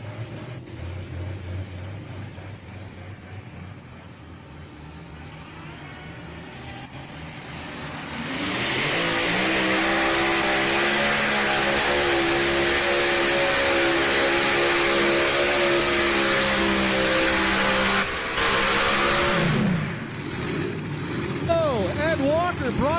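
A pulling tractor with 1471 superchargers roars into its test hook at a truck and tractor pull, a huge sustained engine howl building after quiet crowd noise, holding loud for about ten seconds before cutting off, with a voice over the loudspeaker.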